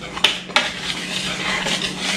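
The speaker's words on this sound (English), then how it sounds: "So I'm just stirring these together to incorporate so that you do not have any clumps of baking powder anywhere in here" Dry baking powder, cinnamon and nutmeg stirred together in a bowl with a utensil, giving two sharp clinks against the bowl early on, then a steady soft scraping rustle, close and moderately loud, with no talking.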